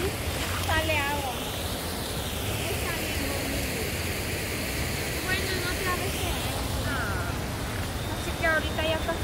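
Water gushing and splashing steadily into a pool at the Amapulapa water park in San Vicente, El Salvador, a continuous rushing wash heard close by, with people talking over it.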